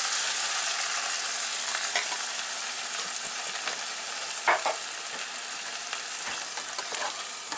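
Thick pizza sauce for a deep dish pizza sizzles and bubbles steadily in a pan, a soft continuous hiss with occasional stirring scrapes, close and fairly quiet with no talking.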